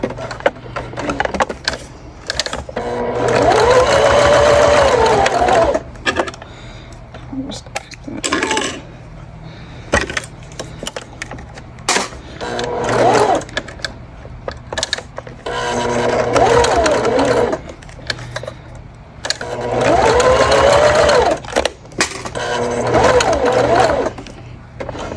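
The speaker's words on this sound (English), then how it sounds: "I'm just top stitching, so I have it at a 4 length." Sewing machine top stitching a bag at a long stitch length with contrasting thread, running in several bursts of steady whirring, with pauses and small clinks between runs.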